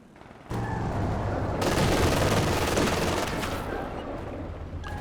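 Dense, sustained machine gun fire and scattered shots from a Company of Heroes 2 battle erupt suddenly and keep rattling close and loud, fading slightly toward the end.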